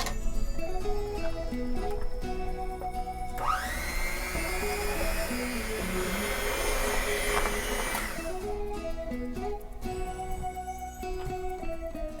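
An electric mixer blends egg and vanilla into a batter in one roughly five-second burst, its whir rising sharply as it starts, heard over background music.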